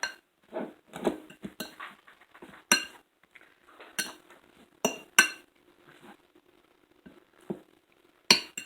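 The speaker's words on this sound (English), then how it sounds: "we want to mix that up, stir it around." A utensil stirs a seasoning mixture with pepper in a bowl while making keto sesame chicken, giving irregular metallic clinks and taps against the dish, some sharp and close, with quieter scraping between and no talk.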